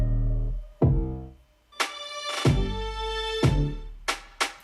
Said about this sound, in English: It alternates between the 808 and then a synth bass playing that same 808 melody.